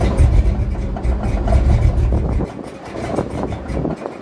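Cammed LS-swapped Chevrolet C10 truck rumbling loud and close, a deep heavy engine note that drops off partway through as the throttle is released, leaving a lower burble.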